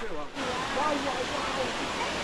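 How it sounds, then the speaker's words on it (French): A waterfall in the Podocarpus National Park forest roars in a steady, broad rushing wash, close and loud, with faint voices mixed in beneath the water noise. "Mais on est déjà arrivé à la cascade"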